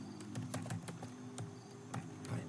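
Keys on a computer keyboard are typed in quick, light clicks at an irregular rhythm, heard close and fairly quiet against a low steady hum.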